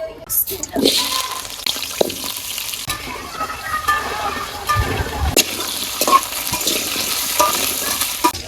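Potatoes fry in oil in a wok with a loud, close sizzle, broken by utensil clatters and scraping knocks as they are stirred.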